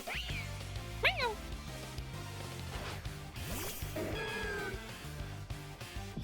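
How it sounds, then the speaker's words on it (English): A cat meows several times in the Pokemon Legends Z-A video game, short rising and falling cries over game music and sound effects. "Meow."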